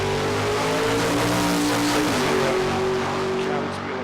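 A drag racing car roars loudly at Calder Park's night drags, the engine droning hard and close with a steady high rumble that eases slightly at the end.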